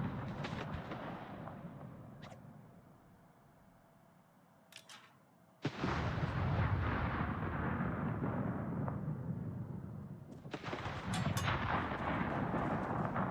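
Torpedo hits explode against a warship in World of Warships: a quiet rumbling stretch breaks into a sudden loud blast, then rolling booms, and a second heavy burst arrives a few seconds later.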